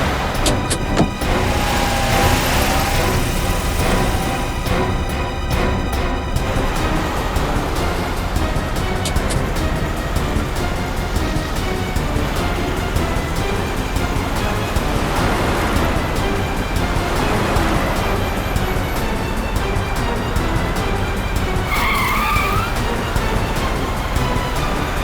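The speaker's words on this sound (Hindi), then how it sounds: "इस तरह से गाड़ी चला रहा है, कहीं किसी को नुकसान ना पहुंचा दे।" A car driven recklessly in a crime drama chase, a continuous loud roar of engine and road noise with rushing, skidding texture throughout, under a busy dramatic soundtrack.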